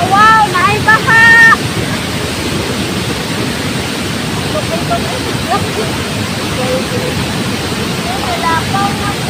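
Floodwater from an overflowing river rushes past in a loud, steady broadband roar, close and continuous, with a person's voice briefly heard over it near the start and again toward the end.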